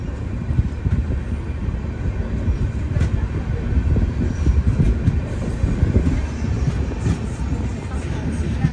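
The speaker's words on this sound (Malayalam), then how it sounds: "ട്രെയിൻ ഇപ്പോൾ ഹാർമത്തി സ്റ്റേഷനിലേക്ക് എത്തി." Inside a sleeper class coach of the Donyi Polo Express running toward Assam, a steady loud rumble of the moving train with faint rhythmic wheel clatter throughout, and voices murmur in the background.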